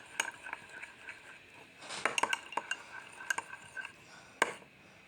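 A spoon stirs a homemade three-ingredient slime in a bowl, giving sparse, irregular clinks and taps of metal against the container, close and fairly quiet, with no talking.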